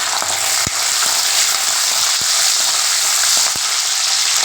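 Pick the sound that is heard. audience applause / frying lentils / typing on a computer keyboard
frying lentils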